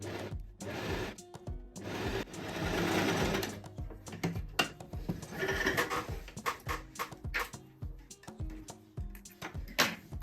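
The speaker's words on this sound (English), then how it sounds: "I'm placing my sewing foot down. I'm holding them at the beginning again so that they won't snap, and I'm gonna sew along again." A sewing machine stitches rows of elastic thread onto fabric for a summer top, running in close, steady bursts of rapid mechanical whirring with brief pauses and small handling clicks between runs.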